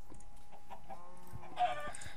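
Chickens in Minecraft cluck in short, scattered bursts, several quick calls close together and moderately loud, with no talking.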